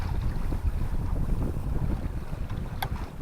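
A sailboat tips through the wind during a turn on the sea off Northern Ireland, with steady buffeting wind noise and rushing water filling the whole stretch, a brief high tick near the end.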